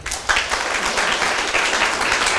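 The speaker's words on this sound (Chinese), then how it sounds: "还没讲出来就拍手。" An audience at a political seminar applauds, a dense, steady burst of many hands clapping that holds even and loud throughout, with a faint voice underneath.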